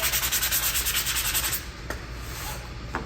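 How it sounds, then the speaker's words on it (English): Rapid rhythmic rubbing of a sanding block for about a second and a half, then quieter scraping and a light tap, close by. "Take your sanding block from your starter kit, sand it just a tiny bit."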